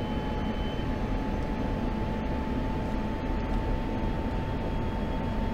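An F-16C Viper jet takes off in the DCS flight simulator, its engine a loud, steady roar with a thin constant whine that runs unbroken throughout, with no talking.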